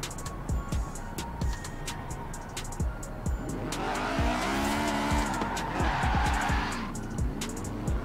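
A Honda S2000 racing at Holyrood Park circuit in Forza Horizon 4, engine droning with gear-change sweeps, then a sustained tire squeal through a corner lasting several seconds before the engine note returns, loud and close.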